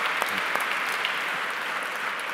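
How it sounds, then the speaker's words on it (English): Audience applause closing a political interview event with an EU vice president, a steady wash of clapping from a crowd, fairly close and continuous. "A round of applause."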